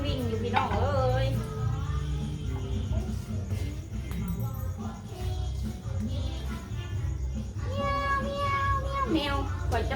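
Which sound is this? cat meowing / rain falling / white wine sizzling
cat meowing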